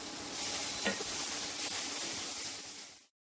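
Rajma masala with asafoetida and torn bay leaves sizzles in a hot pan while being stirred. A dense, steady frying hiss sounds up close with faint scraping strokes, then cuts off abruptly to silence.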